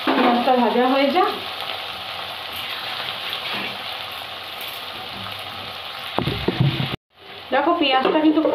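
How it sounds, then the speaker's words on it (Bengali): Chopped onion sizzles and fries steadily in a pan with cumin seeds, a constant crackling hiss, with brief stirring clatter near the end; someone talks over the frying at the start and end. "পেঁয়াজটা ভাজা হয়ে যাক।"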